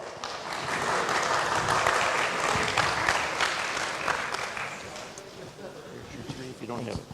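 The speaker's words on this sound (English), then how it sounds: "Let's give them a nice round of applause" At the 2018 Formula SAE Michigan awards ceremony, a large audience claps in a broad, steady wash of applause that swells early and slowly eases, with voices mixed in underneath.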